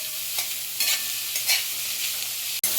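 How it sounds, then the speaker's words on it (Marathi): Onions fry in a pan for a dry bell-pepper curry, a steady sizzle broken by several bursts of stirring scrapes, close and fairly loud, cut off by a brief dropout near the end. "हे लाल कांदा होईपर्यंत भाजून द्यायचा, हलवत राहायचे"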